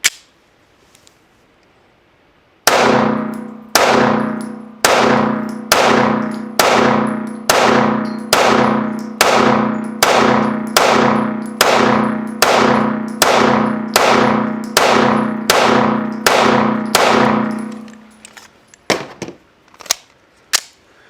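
Rapid pistol fire from a Staccato HD P4 2011 fitted with a Viridian green dot at an outdoor range, about eighteen evenly spaced loud shots each followed by a bright metallic ring from steel targets, then a few scattered clanks.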